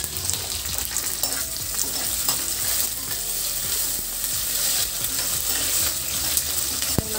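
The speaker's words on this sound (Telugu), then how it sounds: "కొంచెం కలర్ చేంజ్ అయ్యాక కరివేపాకు వేస్తున్నానండి" Curry leaves hit hot oil in a pan during cooking of an anapaginjala (field bean) masala curry, giving a steady, dense crackling sizzle with occasional sharp pops, close and fairly loud throughout with no talking.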